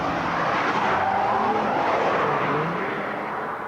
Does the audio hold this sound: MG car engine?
yes